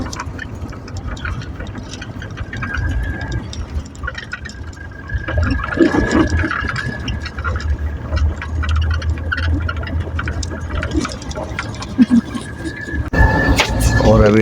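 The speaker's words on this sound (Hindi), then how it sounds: "अब जितनी भी चल रही है जीप यस पे चल रही है, पानी में चल रही है।" A jeep engine drones steadily while the vehicle drives through river water, splashing and sloshing growing louder midway, with voices talking throughout.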